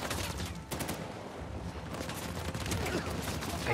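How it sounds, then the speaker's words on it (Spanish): Machine gun fire from a 4x4 truck in Uncharted: The Lost Legacy pours out in dense, rapid bursts, loud and close with heavy low-end impacts and a brief lull early on. "Tenemos que ir con cuidado porque nos está castigando con la ametralladora"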